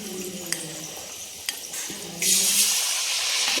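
Milk pitha cakes fry in oil, a soft steady sizzle with a few light taps from a fork, growing to a louder hiss near the end.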